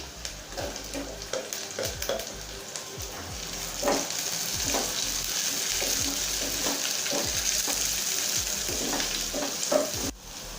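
Peppers sizzle and fry in a hot pan for beef stew, with steady loud crackling and intermittent stirring scrapes throughout, no talking.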